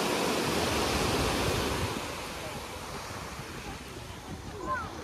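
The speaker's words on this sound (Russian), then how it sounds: "Такая сейчас обстановочка на пляже" Waves wash steadily over a pebble beach in Alanya, Turkey, a broad surging hiss that is louder at first and then settles into a softer continuous wash, with some wind noise on the microphone.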